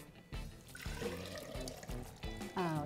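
Water poured from a blender into a jug in a home kitchen while making arepas, a close, continuous splashing trickle lasting a few seconds, with a voice briefly speaking near the end.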